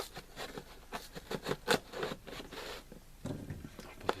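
A LEGO BIONICLE set package, Mask Maker vs. Skull Grinder 70795, being opened by hand: close, irregular crinkling, scraping and tearing bursts in quick succession with brief pauses.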